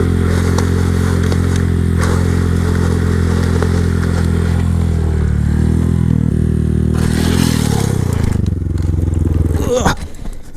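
A Honda Grom motorcycle engine drones loudly and steadily while riding, its pitch shifting, then scraping and clattering noise builds near the end as the bike goes down and the engine cuts off.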